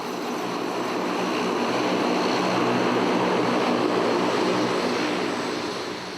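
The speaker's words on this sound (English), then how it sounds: "Not far behind the departing EasyJet, Jim's plane is just landing" A passenger jet landing at an airport roars steadily with broad engine noise, swelling slightly in the middle and fading a little at the end, with no voices.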